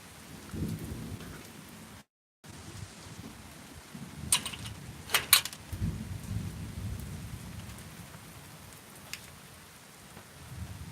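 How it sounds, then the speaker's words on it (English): Heavy rain pours steadily on a stormy day at Lake Elsinore, a dense hiss with low thunder rumbling underneath and a few sharper cracks in the middle. "I think it's raining a lot."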